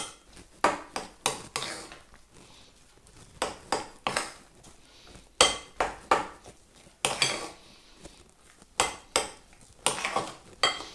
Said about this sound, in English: Just fold it over and cut through, fold over, cut through.